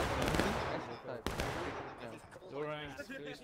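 An artillery shot hits during a War of Rights battle: a sharp impact blast amid dense, continuous gunfire and chaotic combat noise, with someone talking excitedly over it.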